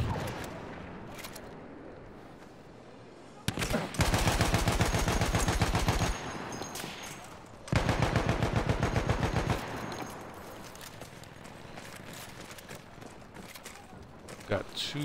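Rapid automatic gunfire from an M1909 machine gun in Battlefield 1, two long loud bursts of fast-repeating shots with distant battle noise between them, and someone talking.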